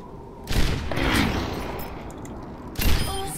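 Bursts of gunfire in the video game Overwatch crack out, one at the start and another near the end, with a rolling boom and rattle in between.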